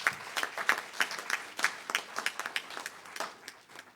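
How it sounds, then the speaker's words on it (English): An audience at a government cabinet retreat gives the President a round of applause, a moderate burst of scattered handclaps that thins out and fades toward the end. "Give the President another round of applause."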